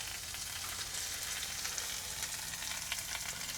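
Browned spiced chicken sizzles in a pot, a soft, even crackle of frying that continues without a break and without talk.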